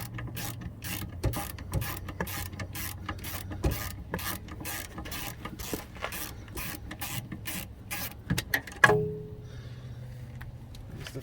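A ratchet removes a rear brake bolt on a 2006–2010 Mk5 Jetta, with steady close clicking strokes in an even rhythm for several seconds before a final clunk and quiet.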